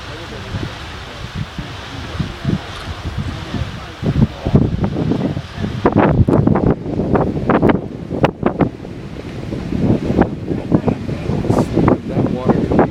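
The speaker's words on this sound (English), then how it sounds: "That water coming out is just incredible." Beehive Geyser erupting at Yellowstone, its gushing water heard as a steady roaring rush mixed with gusting wind across the microphone, while people nearby talk over it.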